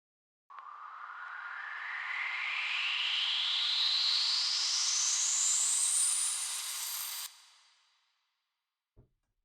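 A little build-up effect for a dark techno track, made from a filtered retro sound-effect sample: a noisy hiss that rises steadily in pitch over about seven seconds, then cuts off and fades, with a tiny click near the end.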